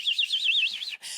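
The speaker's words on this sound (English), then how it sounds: "She could hear the birds." Birdsong in woodland: a single bird's high, warbling chirp trills in a rapid wavering pattern, clear and fairly close, stopping briefly near the end before a faint hiss of the forest resumes.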